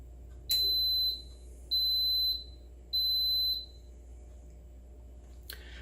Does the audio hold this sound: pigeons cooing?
no